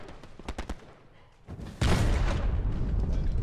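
A tank shell blasts in the World War II shooter Hell Let Loose, a sudden loud boom followed by a sustained roaring rumble, with a few sharp gunshot cracks and quieter firing just before.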